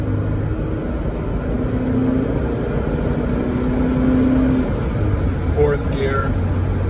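A 1987 Alfa Romeo Quadrifoglio cruises in third gear with a steady, even engine hum and road rumble throughout, heard from inside the cabin.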